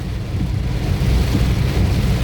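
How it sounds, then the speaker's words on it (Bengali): Heavy rain pours steadily on a road between Cumilla and Dhaka, a loud dense wash of noise with a deep rumble of thunder running underneath, with no voices. "বৃষ্টি হচ্ছে দর্শকবৃন্দ, সাংঘাতিক বৃষ্টি"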